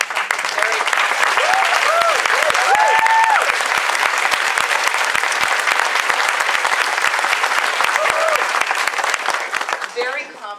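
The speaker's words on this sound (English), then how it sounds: "can we have a big round of applause for actually making something" A film festival panel audience gives loud sustained applause with a few cheers, clapping strongly from start to near the end, while a voice speaks over part of it.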